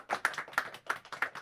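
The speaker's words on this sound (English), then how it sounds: "That was just a little bit of an applause there." A few people give a brief round of sparse handclaps, in four or five uneven bursts, close and fairly quiet, with no voices over them.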